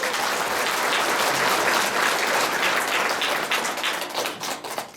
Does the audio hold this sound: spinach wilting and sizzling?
no